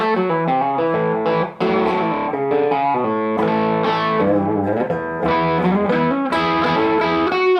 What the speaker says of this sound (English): here is bridge humbucker